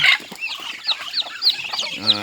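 Free-range village chickens cluck and squawk in a rapid, busy chorus close by at a poultry farm, with dense overlapping calls and no talk.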